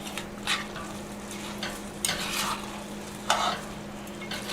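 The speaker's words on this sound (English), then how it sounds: "Just want to stir the rice in now." Rice is folded into frying jambalaya, giving soft, intermittent scraping stirs over a quiet, steady sizzle, with several distinct spoon strokes close by.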